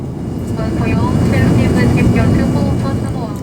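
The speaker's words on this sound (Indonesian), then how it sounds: "ketika pesawat ini lepas landas dan akan meninggalkan Bandara Soekarno-Hatta" Airliner taking off from Soekarno-Hatta Airport at night, heard from inside the cabin as a steady, loud low engine roar that swells slightly and holds throughout, with faint voices underneath.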